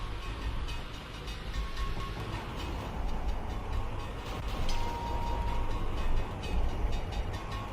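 A train passes in the Hot Wheels: MechaniX video game, a dense, steady rumbling wash with faint ticking, loud and continuous with no talk.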